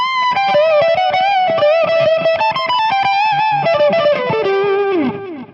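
Distorted electric guitar lead lick, played at a faster tempo, a quick run of picked notes that ends on a sustained bent note fading out, loud and alone with no talk.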